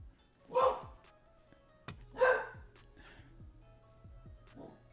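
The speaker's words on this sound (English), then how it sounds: "As you can hear, my doggy's talking to me right now" A pet dog indoors gives two loud, close barks about a second and a half apart, followed by softer whimpering yips, with no one speaking over them.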